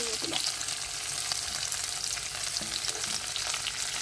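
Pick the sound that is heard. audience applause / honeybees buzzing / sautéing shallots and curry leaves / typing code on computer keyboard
sautéing shallots and curry leaves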